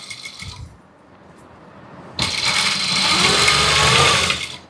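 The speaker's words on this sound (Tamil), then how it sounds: "இதுக்கு மேலே மறுபடியும் ஒரு படிமான தையல் நம்மளோட நல்ல துணியில்." Sewing machine stitching chudithar fabric, a firm second line of stitches run over good cloth; quiet mechanical rattle at first, then a louder, steady whirring run through the second half that fades at the end.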